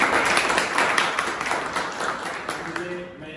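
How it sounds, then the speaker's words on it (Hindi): A crowd claps for a candidate selected for an LDC government post, dense and fairly loud applause that carries steadily for several seconds before thinning out, with voices mixed in underneath. "तो एक बार इनके लिए तालियां बजाओ"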